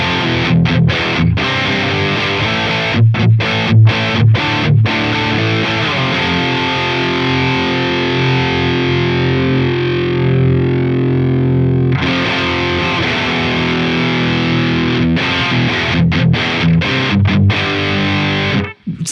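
A cranked Dr. Z MAZ18 Jr amp with EL34 power tubes pushes an electric guitar into thick distortion, loud and close, with chopped rhythmic strums at the start and end framing a long sustained ringing chord in the middle.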